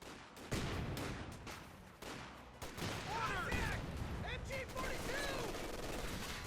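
Rapid gunfire and machine-gun bursts crackle in a Company of Heroes 2 battle, a 1v1 match pitting Wehrmacht grenadiers against US Forces, with dense overlapping shots throughout and a few tonal game effects over the background din.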